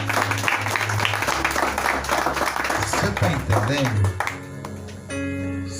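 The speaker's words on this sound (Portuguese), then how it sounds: "Aplauda ele." Church congregation breaks into applause during a preacher's sermon on faith, a dense burst of clapping mixed with voices, fading as the preacher resumes speaking near the end.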